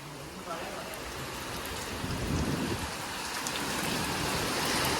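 Heavy rain pours down in Bangalore during a thunderstorm, a dense, constant roar of water on surfaces nearby that swells slightly louder over a few seconds.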